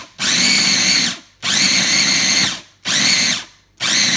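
Electric grinder pulverizing dried food into a fine powder, running in three long loud bursts of about a second each with brief silent pauses between them, close up and without talk.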